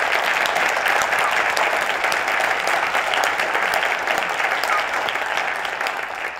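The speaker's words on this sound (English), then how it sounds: "I would like us to give a round of applause to Marcy, Martha, Michelle, and their staff for all of their hard work" A conference audience applauds conference staff with steady, dense clapping from many hands that holds loud and even throughout, easing off slightly at the very end.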